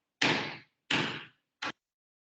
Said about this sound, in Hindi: मैं दरवाजा बंद करके आती हूँ